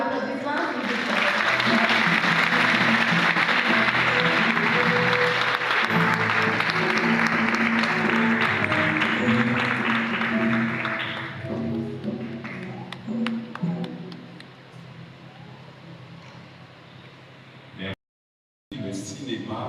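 A congregation claps for the officers of Saint-Pierre at a thanksgiving mass marking a scout group's 33rd anniversary; long, dense applause fills the hall, then thins and fades out as a voice resumes speaking.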